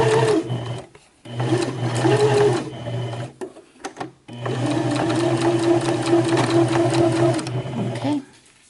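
A sewing machine stitches fabric for a bunny-print delicates bag, running in steady loud bursts with a short pause and a brief stop near the middle, then one long continuous run before it halts.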